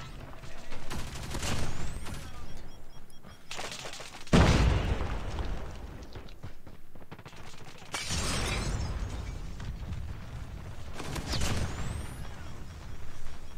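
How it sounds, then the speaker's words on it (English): A grenade blast in the mobile shooter COD Mobile bursts loud and close amid bursts of gunfire and shattering debris, with other sharp impacts scattered through the firefight. "I almost died to the nade"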